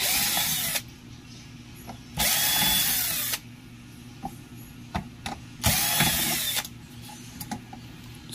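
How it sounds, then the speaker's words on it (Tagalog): A power drill runs in three sustained bursts of about a second each, loud and close, with short mechanical clicks and handling noise between the runs. "Barena natin, barena."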